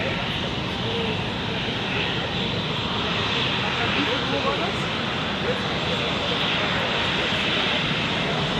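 Aircraft taxiing at Zurich airport, a broad steady jet engine roar heard close and loud from an observation deck, constant throughout with no break.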